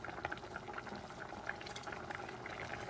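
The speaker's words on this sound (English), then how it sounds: "And let it boil for a few seconds." Water coming to the boil in a pot for rice with salted pork and bok choy, a steady soft bubbling and crackle, close but quiet, with no talk over it.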